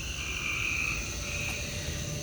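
Frogs croak steadily and densely around a backyard swimming pool, a continuous chorus of overlapping calls at a constant level with no speech.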